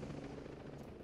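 A helicopter in the tactical shooter Ghost Recon Breakpoint gives a steady, deep rotor drone and engine roar, close and continuous throughout the short stretch.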